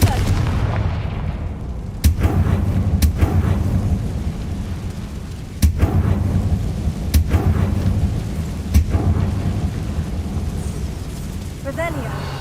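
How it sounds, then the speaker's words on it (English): Confringo explosion spells cast in the Hogwarts Legacy video game, a series of sharp booming blasts repeating every second or two over a steady low rumble of game ambience. "Confringo."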